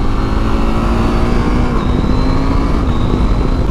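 A KTM 890 SMT motorcycle engine revs steadily and loudly during a ride, a sustained throaty drone with a pitch rise partway through, close to the rider with no talking.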